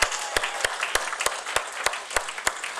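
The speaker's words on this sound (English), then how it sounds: "You gotta give them a round of applause" A small church group claps and applauds, scattered sharp claps standing out over a soft wash of hand noise, fairly close.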